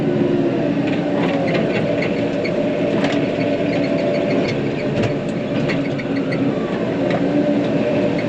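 A tractor engine drives steadily along farm paths toward a horse pasture, a continuous loud droning rumble with faint rattles and squeaks over it, no talking.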